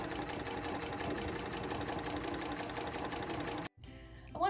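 A sewing machine stitches in the ditch along a quilt seam using a quilting foot, a fast steady mechanical whir and needle chatter up close that stops abruptly near the end, followed by a faint brief rattle.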